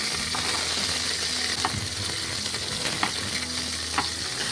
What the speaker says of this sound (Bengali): আলুগুলো হালকা ভাজা হবে, খুব একটা ভাজা হবে না